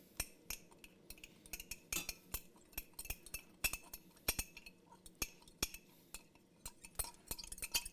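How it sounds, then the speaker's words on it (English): A spoon clinks and taps against a cup while stirring cornstarch and cold water into a slurry, a quick irregular series of small sharp clicks, close and fairly quiet. "Just mix them together to make a slurry."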